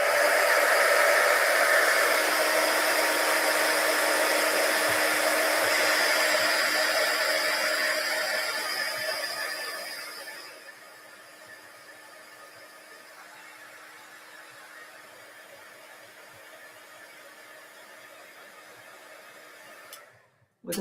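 A heat gun blows hot air to heat-set embossing powder on a card, a loud steady whooshing hiss with a faint whine that drops to a quieter hum midway, then cuts off abruptly near the end.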